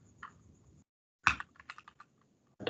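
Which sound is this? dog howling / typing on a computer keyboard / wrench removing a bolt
typing on a computer keyboard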